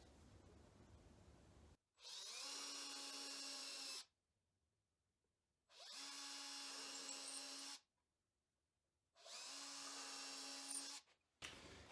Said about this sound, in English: we can go ahead and drill it out with a 1/4-inch bit